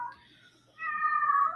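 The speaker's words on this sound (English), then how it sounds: "Sorry about my cat." A house cat gives two meows close by, a short one followed by a longer, louder, drawn-out cry, in a quiet room.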